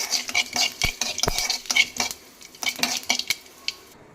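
A spoon clinks and scrapes repeatedly against a pan while curry leaves are stirred and fried. The metallic taps come in irregular bursts, and a faint sizzle sits underneath.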